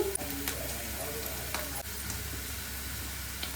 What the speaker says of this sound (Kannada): ಇದನ್ನು ಕೂಡ ನೀಟಾಗಿ ಹುರ್ಕೊಳ್ಳಿ